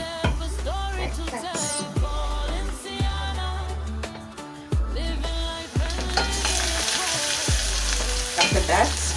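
Onions fry in a cooking pot with a steady sizzle and stirring, while music plays loudly throughout and its repeating bass notes sit over the cooking sounds.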